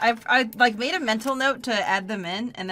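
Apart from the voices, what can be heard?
No everyday noises stand out.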